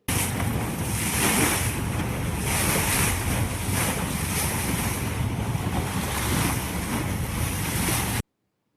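Steady sea waves surge and wash continuously, loud and close, with wind buffeting the microphone throughout and no voices, until the sound cuts off abruptly near the end.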